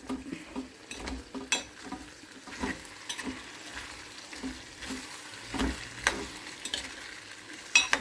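Potato pieces fry softly in a pan in a home kitchen, with a low sizzle and scattered scraping taps as a spoon stirs them at an irregular pace, close and quiet.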